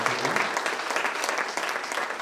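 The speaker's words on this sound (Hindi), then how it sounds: "जोर से ताली बजाएंगे।" A short burst of clapping at a felicitation ceremony in Bahadurgarh honouring a UPSC achiever; fairly soft, even applause from a modest crowd, heard alone without talk.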